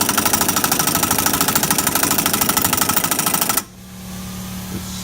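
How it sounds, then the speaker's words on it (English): An impact wrench hammers loudly and rapidly as it flares the end of an exhaust pipe on a 1989 Nissan 240SX, a close, continuous rattling burst that cuts off abruptly into low background hum. "as you run the impact in, it will squeeze this together and blow that pipe out"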